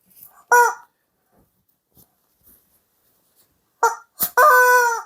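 Chickens or other fowl give short, loud honking calls: one brief call near the start, then after a long silence a quick burst of two or three calls ending in a longer drawn-out cry.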